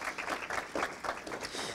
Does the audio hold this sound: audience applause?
yes